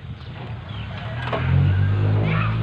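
Engine of a Kubota L4508 DI tractor driving past outdoors, a steady low motor drone that swells louder and rougher partway through as it nears, with faint background noise.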